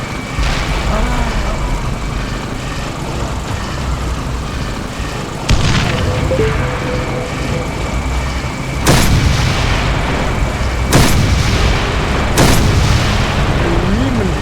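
Explosions in the zombie video game Dead Island Riptide, three or four heavy booms over a constant loud rumbling game soundscape, each with a sharp onset and decaying tail.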